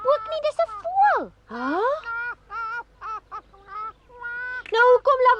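A cartoon bird gives a string of loud, nasal honks in short bursts, some sliding down in pitch and others sliding up, with pauses between them.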